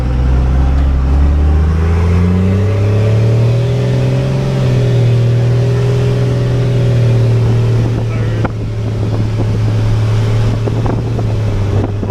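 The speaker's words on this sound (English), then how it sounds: "Truck makes a lot of power." A second-generation Cummins diesel pickup truck drives along with a steady, loud low engine drone that rises and falls as it shifts through gears, with wind buffeting the microphone throughout.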